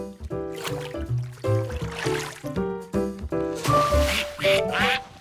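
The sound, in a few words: ducks quacking in a cartoon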